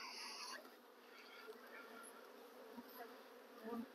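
Honey bees buzz continuously in a dense, low hum while a colony is split, with individual insects droning past close by.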